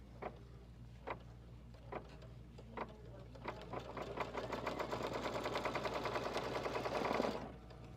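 An embroidery sewing machine stitches steadily, a few separate clicks at first giving way to a fast, even run of needle strokes over a constant low motor hum, then stopping abruptly.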